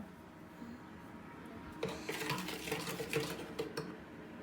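Carrot cake batter with milk is stirred in a bowl: after a quiet start, a spoon or whisk scrapes and clinks against the bowl in an uneven, close rhythm.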